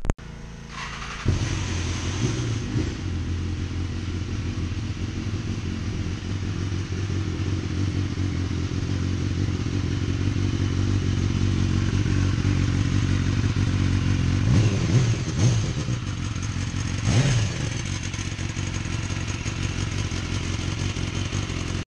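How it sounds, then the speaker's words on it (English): A 2012 Fire Blue BMW S1000RR motorcycle is handled close by. Steady low engine or motor noise runs throughout, with a few clattering knocks and bumps near the end. "I'm gonna pull the motorcycle out and then we'll get started."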